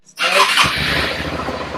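A Suzuki DL650 motorcycle engine starts up close by, a brief cranking burst that catches into a loud, steady idle rumble with a rough, throbbing low end.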